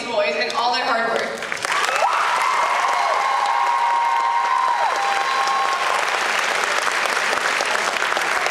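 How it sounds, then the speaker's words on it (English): A loud round of applause with cheering from the crowd at a school pageant show, starting with a voice over it, then sustained and dense clapping throughout. "Let's give one more round of applause for these boys and all their hard work."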